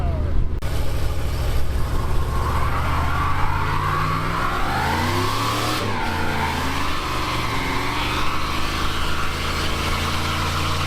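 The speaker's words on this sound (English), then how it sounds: "See if this thing will do a better burnout with a little more horsepower." A turbocharged farm truck does a burnout, its engine roaring loud and close under sustained throttle with a tire-squeal wash, the pitch rising and shifting for about eleven seconds without letup.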